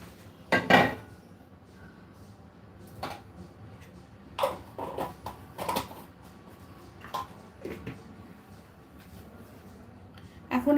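A spoon stirs a detox water drink with chia seeds, giving scattered sharp clinks and knocks against the container between quieter pauses, some in quick clusters.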